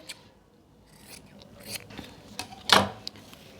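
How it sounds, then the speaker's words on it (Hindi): Scissors cut fabric for a kurti neckline with a few quiet, scattered snips and rasps up close, one louder crisp cut near the end, in an otherwise quiet room. "इसी तरीके से हम गले के ऊपर कट लगा लेंगे।"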